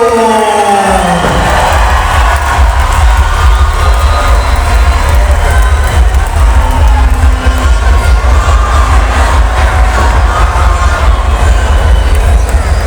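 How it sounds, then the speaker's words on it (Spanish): A loud, roaring crowd cheers and applauds for a lucha libre tag team entering the ring. The wall of noise holds steady and close for the whole stretch, with no clear voice standing out. "El aplauso para Atómico y Rey Cósmico"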